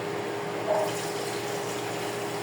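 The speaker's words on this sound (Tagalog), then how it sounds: "Lagyan na natin ng tubig." Water poured into a pot for pork sinigang, a steady gushing pour that runs continuously and fairly loud for a couple of seconds, with no talk.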